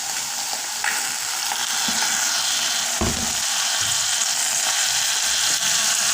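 Steady oil sizzle from a pot of eel liboke (nzombo) cooking as a drizzle of oil goes in, a loud continuous hiss with a few faint clicks and no voices.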